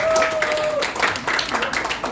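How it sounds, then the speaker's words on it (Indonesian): A church congregation claps at a service, a short burst of dense crowd applause filling the room, with a faint sustained tone heard briefly at the start. "Tepuk tangan bagi Tuhan kita."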